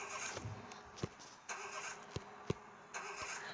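Construction vehicle engine in the Construction Worker 3D video game, a low synthetic engine hum repeatedly restarting with sharp clicks and short bursts, quiet overall, no speech.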